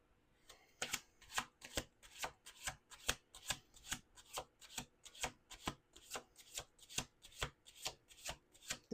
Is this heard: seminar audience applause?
no